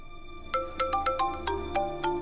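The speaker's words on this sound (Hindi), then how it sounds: "हम सिमरन को फोन लगा दें" Phone ringtone playing during an outgoing call, a bright electronic melody of about eight quick chiming notes in a steady rhythm, clear and close with no talking.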